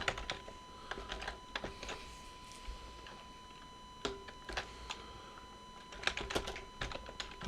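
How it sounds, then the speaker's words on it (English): Keystrokes on a computer keyboard, typed in short bursts of quick clicks with pauses between, fairly close and alone with no talking. "I'll just type something in there."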